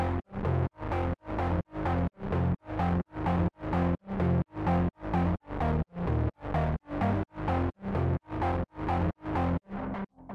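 Growl bass synth from an electronic music drop, heavily sidechained by a kick into about twenty evenly spaced rhythmic pumping pulses, loud and close with no voices.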